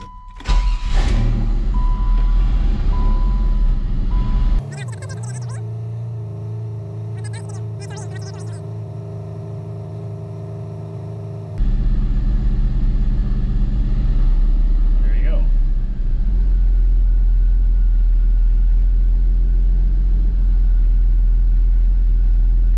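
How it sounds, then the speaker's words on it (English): A Pontiac Fiero with a supercharged 3800 V6 cranks briefly, then settles into a low, steady idle rumble up close, with a quieter stretch mid-way before the engine drone returns full and loud. "Let's start the car up here"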